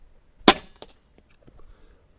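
A DAR Gen 3 .25 caliber regulated PCP airgun fires a single sharp, loud crack outdoors on a shooting range. Faint clicks and light handling noises follow in the quiet afterward.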